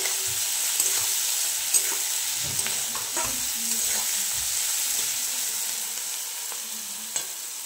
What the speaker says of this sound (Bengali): দিয়ে ভালো করে মশলাটাকে কষে নেব।